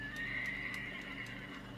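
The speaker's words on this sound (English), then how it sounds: "That's a wheelie, a horse wheelie." Horse in the Red Dead Redemption video game rears up and lets out a loud, sustained whinny with a high pitched tone, a few faint hoof clatters underneath and steady game ambience behind it.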